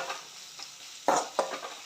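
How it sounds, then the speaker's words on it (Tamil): Onions with mustard seeds sauté in a pan, giving a soft, steady sizzle broken by two louder scraping stirs from a utensil against the pan. "வெங்காயம் நல்லா வதங்கட்டும்."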